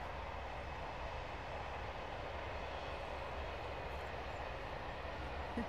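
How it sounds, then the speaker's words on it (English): A Finnish train rumbles steadily at a moderate distance, a continuous low roar with broadband noise that holds even throughout. "And train is coming. That's the Finnish train."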